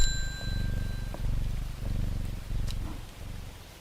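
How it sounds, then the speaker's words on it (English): Cat purring in a steady, close rumble as it is petted in the video game Strange Horticulture, soft rhythmic pulses with a few light chime-like dings over it. "pet the cat"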